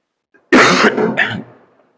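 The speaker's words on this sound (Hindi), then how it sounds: "थोड़ी सी खांसी आ जाए" A single harsh cough, loud and close, followed by a shorter rasping burst, then quiet.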